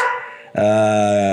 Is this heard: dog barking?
yes